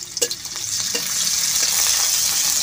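Chopped onion sizzles in hot oil in a pan, a steady bright frying hiss that grows slightly louder, with a few light stirring clinks early on.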